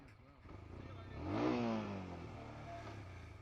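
Royal Enfield Scram 411 motorcycle revving and pulling away, the single engine rising in pitch to a peak then easing off as it moves, fairly near and moderately loud.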